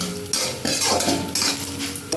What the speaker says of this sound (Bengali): বড়িগুলোকে দিয়ে দিচ্ছি একটু তেলেতে ভেজে নেব